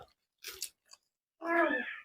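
A child bites into and chews raw eggplant close to the microphone. Two short crunchy bites are separated by silence, followed by a brief wet chewing burst. No one speaks during it.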